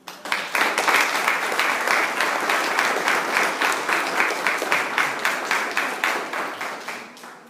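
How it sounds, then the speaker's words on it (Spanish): Audience at a church service applauding for Jesus Christ, loud sustained clapping from a large crowd that swells quickly and holds steady before tapering at the end. "Un aplauso para Jesucristo."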